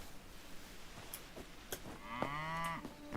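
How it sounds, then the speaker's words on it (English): A cow in the video game Hytale lets out a drawn-out, close moo that rises and wavers, preceded by a few soft clicks and thumps in a quiet scene. "Hytale presents the latest exciting noises of the moo."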